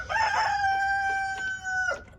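Rooster crowing close by, one long sustained cock-a-doodle-doo call with a steady held note, heard alone over faint background.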